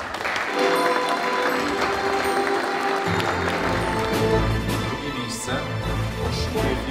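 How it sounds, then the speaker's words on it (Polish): Audience applause at a business award gala honouring regional firms, a steady dense clapping that fills the room for the whole stretch, with a hint of music or voices underneath. "Gratulacje, proszę o wielkie brawa."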